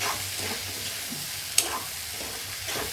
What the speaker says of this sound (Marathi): आता याला एकजीव करून घेते, सगळं फिरून घेते